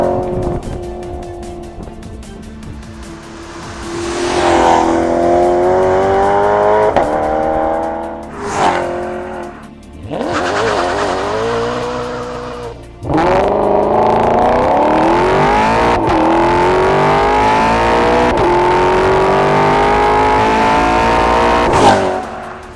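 A 4.7-litre naturally aspirated Maserati V8 sports car engine revs repeatedly, rising and falling in pitch through several bursts, then settles into a sustained, loud roar close by.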